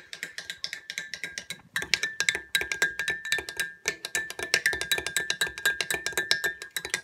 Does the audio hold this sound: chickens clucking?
no